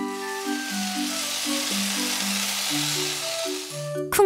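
Korean jeon pancakes sizzling in a frying pan, a steady hiss heard under a simple plucked melody, ending with a sharp knock.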